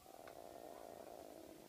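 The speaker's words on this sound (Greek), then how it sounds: "Άκου τη γάτα." A domestic cat purring close up, a soft, steady low rumble running the whole short stretch, quiet and alone.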